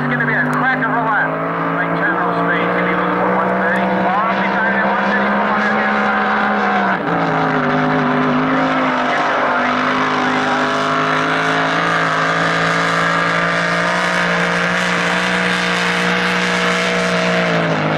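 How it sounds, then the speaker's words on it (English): A loud, continuous race car engine howling at high revs during a lap at a 2014 Blown Lite shootout, pitch dipping briefly then climbing again, close and steady throughout. "Listen for the RPM in the engine."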